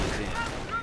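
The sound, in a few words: rifle gunfire in a World War II strategy video game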